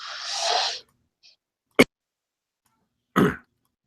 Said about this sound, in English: I was holding the cough, and then I still coughed